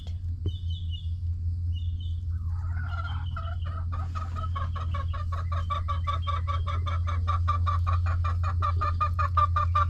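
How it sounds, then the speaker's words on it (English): A flock of chickens clucks in a steady, rapid rhythm that grows busier after a few seconds, over a constant low droning hum. "You got some noisy chicken neighbors, Pinky."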